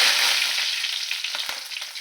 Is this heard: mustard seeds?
yes